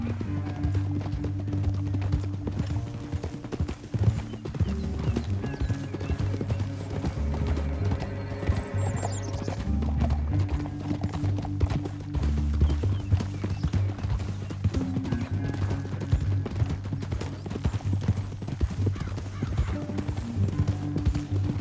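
Horse hooves galloping in Red Dead Redemption 2, a fast, continuous clip-clop rhythm beneath a steady music score, with a brief whinny partway through.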